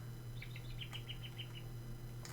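Synthesized bird chirps from the Digimon World 1 video game, a short series of evenly spaced high tweets over a steady low background hum, fairly faint throughout.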